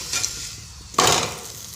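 A potato paratha cooks on a pan over a low flame, with a soft sizzle that swells into a brief louder hiss partway through and then eases off.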